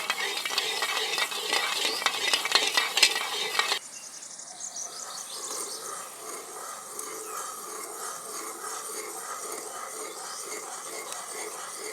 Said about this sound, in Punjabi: ਖੰਡ ਖੁਰਗੀ ਗਈ ਫਿਰ ਚਾਸ਼ਨੀ ਬਣਨੀ ਸ਼ੁਰੂ ਹੋ ਜੂਗੀ